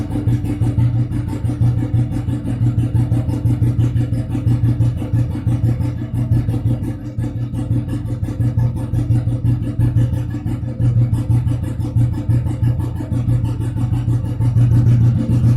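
A Royal Enfield 350/500 cast-iron standard motorcycle engine with carburetor being tuned runs loud and close, a steady low thumping drone whose pace gradually rises and keeps going to the end.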